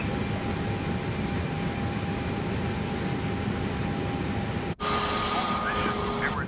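An airplane taxiing near Dubai gives off a steady engine drone and rumble with a faint whine held above it, briefly cut off and then resuming at similar loudness.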